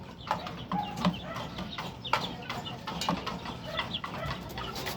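A male chicken, a castrated rooster of unusual color, clucks repeatedly at a farm feeding, with soft bursts of fowl calls over a steady background of other birds.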